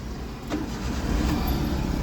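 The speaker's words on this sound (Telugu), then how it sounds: "వెహికల్ స్టార్ట్ చేస్తున్నాను" A car engine turns over and catches on a single self-start, then settles into a steady low idle close by.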